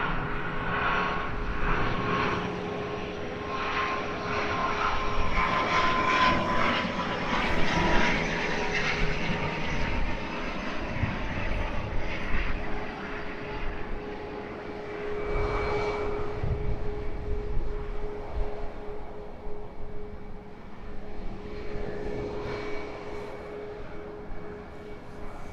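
A plane comes in to land at Edinburgh Airport, a broad, fairly distant engine roar that holds steady with slow swells and eases slightly toward the end, heard alone.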